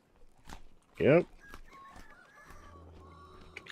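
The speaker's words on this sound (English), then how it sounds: "I can hear my chickens this morning." Chickens clucking in the video game Vintage Story, one loud squawking cluck near the middle among faint scattered farm sounds and a low hum.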